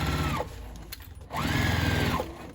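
A sewing machine stitches a pocket onto a tote bag in two quick motorized bursts, revving up and whirring close, with a short pause between runs.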